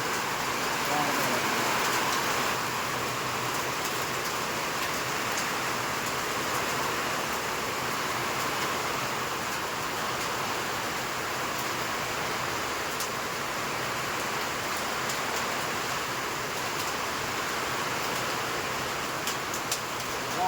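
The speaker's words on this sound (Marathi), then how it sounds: "गारा पडायला लागले" Hail and heavy rain pour down during a cloudburst in Lonand, a dense, unbroken roaring hiss that stays loud and even for the whole stretch, with muffled voices under it.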